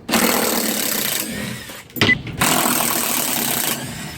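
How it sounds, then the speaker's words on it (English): Ratchet wrench loosening the base bolts of a large metal-cutting bandsaw, giving bursts of rapid close clicking with a brief pause in the middle. "We've got these bolts down here at the bottom. Ratchet."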